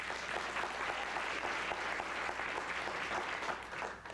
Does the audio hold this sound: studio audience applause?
yes